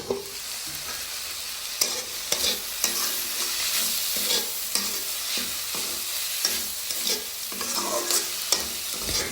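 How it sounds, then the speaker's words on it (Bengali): Drumstick (sajane) leaves cook in a pot, a steady close sizzle with repeated scraping of a spatula as they are turned, rhythmic stirring strokes over the continuous hiss and no voices. "মাঝে মাঝে ঢাকনা উঠিয়ে আবার নেড়ে চেড়ে দেব"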